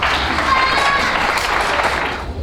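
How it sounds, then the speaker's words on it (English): An audience at an autism walk event claps together in a short burst of applause, a dense, steady patter of many hands at moderate distance. "So I'd like you to stand and give a clap."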